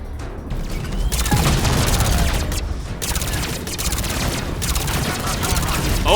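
Dense, continuous gunfire and explosive bursts from a Mass Effect Legendary Edition firefight, loud and rapid with overlapping shots throughout, with a player talking over the gunfire.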